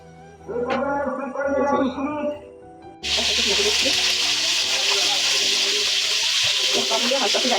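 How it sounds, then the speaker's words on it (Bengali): A voice speaks briefly, then loud, steady sizzling and crackling of chicken balls frying in a little oil in a wok takes over and continues to the end. "কড়াই বসাই দিছি তেল দিয়ে নিই হালকা তেলই ভাজি একটু তেল দিলাম"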